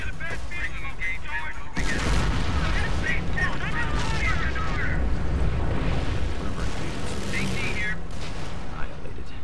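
Explosions and gunfire in a Company of Heroes custom battle, a dense, continuous barrage of booms and shots with someone talking excitedly over the fighting throughout.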